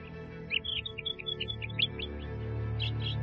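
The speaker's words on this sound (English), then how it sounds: "The northern mockingbird is renowned for its remarkable ability to mimic the sounds of other birds" A northern mockingbird sings a quick run of bright, sharp chirps and whistled phrases at moderate distance, with a low steady hum of background noise beneath.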